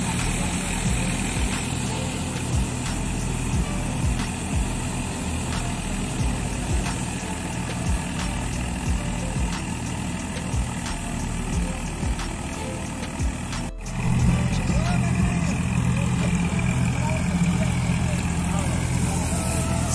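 A tractor 855 engine runs steadily through a wheat harvest, its deep, even drone continuing without a break and rising slightly in loudness partway through.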